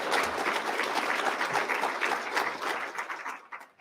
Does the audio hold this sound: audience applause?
yes